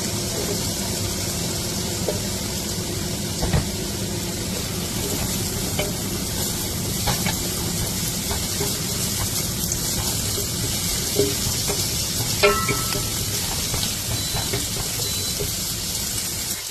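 Onion frying in a pan for pancit bihon with shrimp, a steady broadband sizzle running throughout with occasional scrapes and clinks of stirring, close and moderately loud, no voices.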